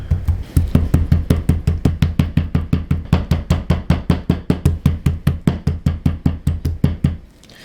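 Back of a knife pounding a chicken breast flat on a board, a steady, rapid string of roughly forty sharp, loud knocks at an even rhythm, close up, stopping abruptly near the end.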